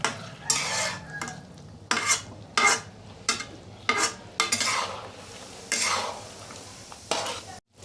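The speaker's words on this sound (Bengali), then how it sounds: "ওপর দিয়ে একটু ধনেপাতা কুচি ছড়িয়ে, এবং ধনেপাতাটা এর সঙ্গে ভালো করে মিশিয়ে নিচ্ছি" Chopped coriander is stirred into chilli chicken gravy in a pan, a series of loud scraping spatula strokes in an uneven rhythm over a faint sizzle, close up with short pauses between strokes.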